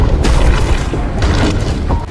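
An explosion from The Dark Knight film, a loud deep boom with rumbling low-end rolls and a couple of follow-up bursts, heavy and close with no speech over it.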